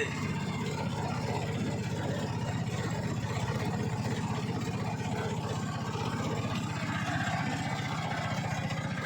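An auto-rickshaw engine strains up a slope, a constant near throbbing drone with steady pulsing low rumble throughout, no voices.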